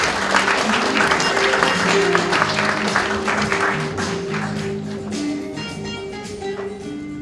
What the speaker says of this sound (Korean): 큰 박수로 원장님 환영해 주시기 바랍니다